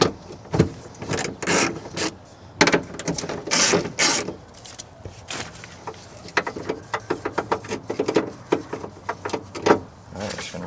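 Ratcheting socket wrench clicks in rapid bursts while bolts holding the window guide come out of a Kia Sedona front door, with metallic clatter and handling noise close by between the runs.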